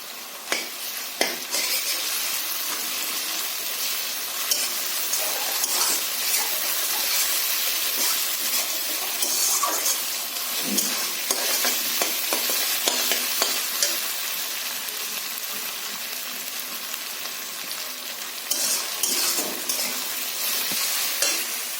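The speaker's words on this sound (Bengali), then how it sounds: "এবার দিয়ে দেবো আদা বাটা," Ginger paste sizzling and frying in hot oil for a katla fish head and jackfruit curry, a steady dense crackle throughout with occasional stirring scrapes and utensil clinks, no talking.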